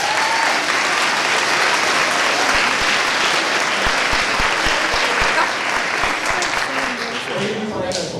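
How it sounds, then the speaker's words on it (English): A large audience at a school band concert claps loudly and steadily, a dense, sustained wash of applause that carries on without a break and begins to thin slightly near the end. "So another round of applause for these districts."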